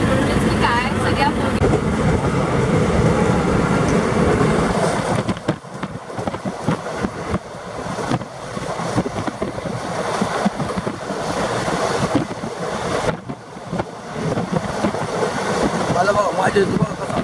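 A moving passenger train on a rail journey to Ghuman in Punjab rumbles steadily throughout, with a continuous close broadband roar and indistinct voices mixed in among the carriage noise.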